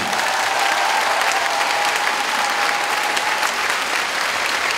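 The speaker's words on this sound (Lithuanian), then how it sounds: "Padarom dar šiek tiek aplodismentų." At a club anniversary celebration concert, a large audience bursts into loud, sustained applause, dense and close, holding evenly for several seconds with a faint tone lingering underneath and no talk.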